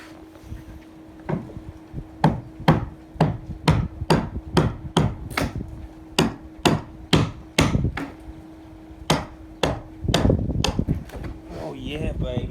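A hammer strikes on a boat in a fast, steady series of sharp, loud blows, about twenty in all, with a short pause partway through and a steady hum under the strikes.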